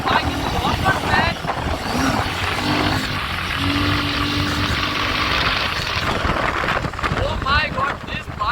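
A Royal Enfield Himalayan 450 motorcycle engine revs loud and close through a downshift in traffic, with rushing wind noise over it and a voice talking across the ride.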